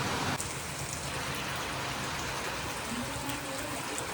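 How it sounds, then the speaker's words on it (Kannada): Heavy rain falls steadily over a village, making a dense, continuous patter and hiss on surfaces that stays loud throughout with no voices. "ಮಳೆ ಅಂತೂ ಬಿಡವಲ್ತ್ರಿ"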